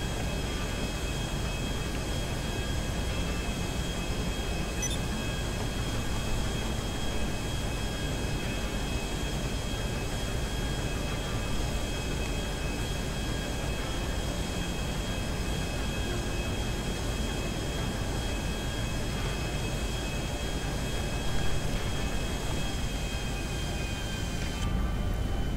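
Airplane flying in GTA 5 Online, a steady continuous engine drone with a faint high whine, constant and unbroken throughout.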